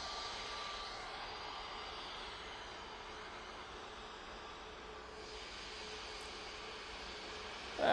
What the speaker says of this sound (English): Prop has just arrived, you can see it in the background.